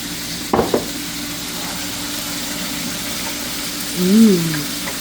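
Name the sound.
beef stir fry frying in pan with sweet soy sauce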